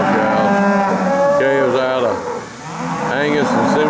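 Angus and Angus-cross cattle moo repeatedly at a farm cattle sale in Alabama, several loud, close, drawn-out calls overlapping with a brief lull in the middle.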